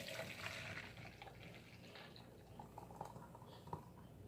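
Kale juice pours steadily into a glass with a soft, trickling splash that stays close and quiet throughout.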